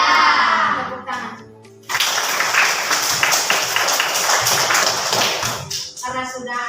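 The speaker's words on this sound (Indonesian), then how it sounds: "Tepuk tangan." Classroom clapping from a group of schoolchildren, a dense burst of many hands clapping together for several seconds, with a woman teacher's voice heard before and after it.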